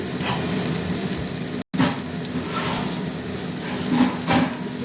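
Spice paste sizzles and crackles steadily as it fries in a pan for an egg curry with bottle gourd, with occasional stirring scrapes and a brief dropout partway through.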